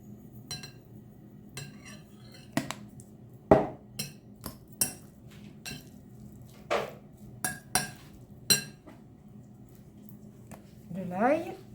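A spoon clinks and scrapes in a bowl while a tomato and onion mixture is stirred, giving scattered sharp taps and light knocks between quiet pauses, with a voice talking throughout.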